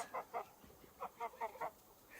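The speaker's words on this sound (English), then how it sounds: "Here are our lovely new barnacle geese" Barnacle geese calling on a farm, with short, faint honking calls repeated in a loose, uneven series.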